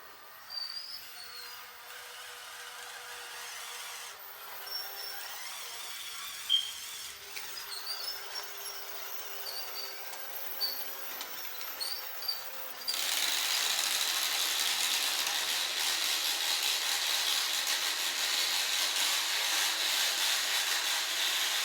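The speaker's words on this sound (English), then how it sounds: "I'm gonna repair it all and crank it back up one last time" A LEGO Southern Pacific 4449 Daylight steam locomotive model, repaired and cranked back up, gives a soft mechanical ratcheting and gear rubbing that shifts midway into a steadier, louder whirring run with no talking.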